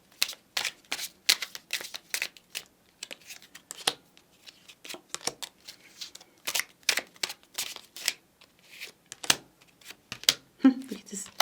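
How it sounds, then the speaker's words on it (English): Chakra cards are pulled from piles in a quick run of crisp snaps and shuffling flicks, irregular but frequent, with a voice speaking softly between them. "we are taking out 2 chakra cards each on each pile"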